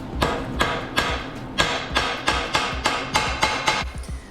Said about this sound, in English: Sometimes you just use an old school set of snips and a hammer. Cut it and flatten it out.